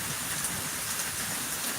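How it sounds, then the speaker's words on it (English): Light rain falls outdoors as a steady, even hiss of fine drops, close and unbroken, with no talking. "there's a little bit of rain out here"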